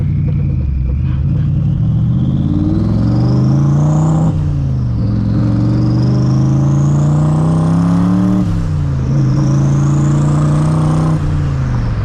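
A 900HP turbocharged SVT Cobra pulls hard through several gears, its loud engine note climbing steeply then dropping at each shift, with turbo whine rising alongside, heard from close inside the car.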